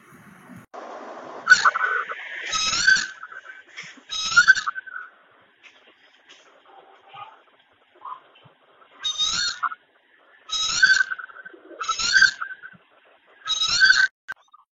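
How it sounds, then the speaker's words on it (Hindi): An Asian koel calls its repeated two-note kuhu kuhu in short, evenly spaced phrases, loud and fairly close, with quiet gaps between bursts and a little other sound early on. "Which bird sounds like Kuhu Kuhu? Coil."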